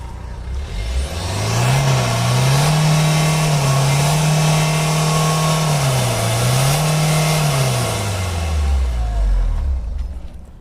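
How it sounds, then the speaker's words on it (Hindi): A Renault Duster diesel engine revs loudly and close up, rising and holding at a steady high pitch through two sustained bursts with a brief dip between, then winding back down toward idle, alone without talk. "और एक बार मैं स्टार्ट करके ब्लैक स्मोक भी चेक करता हूँ क्या है कंडीशन इसका।"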